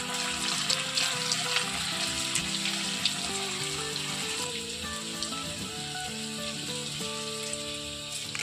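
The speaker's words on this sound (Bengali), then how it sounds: "তো এই বাকিগুলো ভেজে নেব" Leftover potato snacks made from boiled potatoes fry in a pan, a steady close sizzle of hot oil crackling continuously with faint background tones and no speech.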